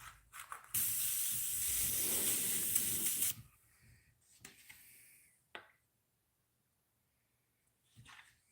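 A spray can gives one sustained hiss of about two and a half seconds as paint is spritzed across the top of a musky crankbait lure. Faint handling clicks and rustles follow in a quiet room.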